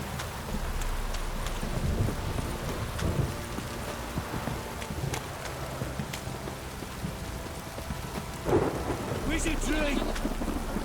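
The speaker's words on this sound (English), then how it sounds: "This downpour's a bastard, it is." Thunderstorm in The Witcher 3: heavy rain hissing steadily on surfaces with low rolling thunder rumbling throughout and a sharper rumble near the end, loud and enveloping, no talk.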